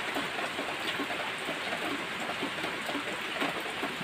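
Heavy rain pours down in a steady, dense hiss that stays even and unbroken throughout, with no voices.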